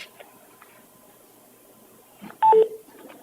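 A short burst of touch-tone telephone dialing beeps, a few quick tones close together, rising out of a quiet county supervisors' meeting room with faint background murmur.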